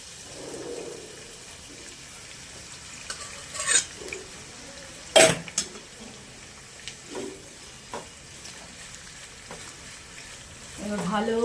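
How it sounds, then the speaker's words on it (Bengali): Onions frying in oil released from braised chicken for chicken tehari, a soft steady sizzle with occasional stirring scrapes and clinks of a utensil against the pan, one sharp loud knock midway. "এবার ভালো করে কষা হতে দেবো, মানে পেঁয়াজটা ভাজতে দেবো আর কি"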